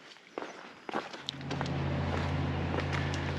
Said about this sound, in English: we can hear the road, so we know we're close